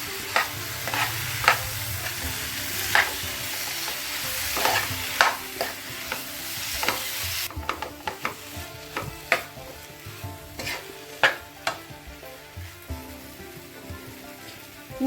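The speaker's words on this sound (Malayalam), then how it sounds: "ഉപ്പിട്ട് വേവിച്ച് വെച്ചേക്കണ കപ്പ ഇട്ട് കൊടുക്കാം ഇതൊന്ന് നല്ലതുപോലെ ഒന്ന് മിക്സ് ചെയ്ത് കൊടുക്കാം" Boiled salted tapioca being stirred in a frying pan, with repeated spoon scrapes and clacks against the pan over a soft frying hiss, the strokes turning sharper and more spaced in the second half.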